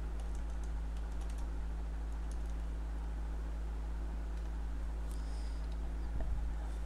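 Faint keyboard typing as code for a loop-based pattern program is entered on a computer, with soft scattered key clicks over a steady low electrical hum and no talking.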